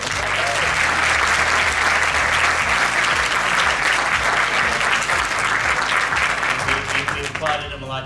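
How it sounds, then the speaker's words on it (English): Audience at a medical school fireside chat applauding steadily and loudly throughout, a dense continuous clatter of many hands that thins slightly near the end, with low background hum underneath. "I know we've been applauding him a lot today"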